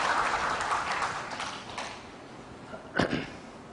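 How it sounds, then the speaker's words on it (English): Audience at a university talk clapping for themselves, a moderate wash of applause fading over a few seconds, with a single sharp knock near the end. "Please clap for yourselves."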